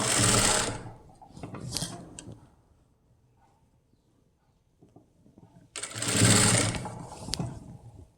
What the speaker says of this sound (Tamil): லேஸ் தைக்கும்போது அதனால் ஒரு சைடில் நான் இப்போ தைச்சிக்கிட்டு வர்றேன்